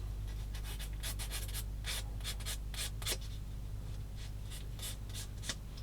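Sanding stick rubbing a small plastic part of a Tamiya 1/35 Matilda tank model kit, quick scratchy strokes in uneven bursts over a low steady hum, close and quiet.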